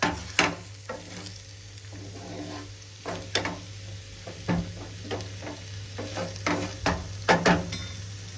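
Three eggs fry in a pan while a spatula taps and scrapes the metal in irregular strokes, clicking and clattering over a low, steady sizzle, close and moderately loud with no talk.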